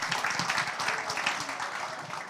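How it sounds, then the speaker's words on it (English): An audience at a Liberian diaspora conference claps after a speech, giving a brief, moderately faint patter of applause that stays even throughout. "May we give another big round of applause for Dr. Jala."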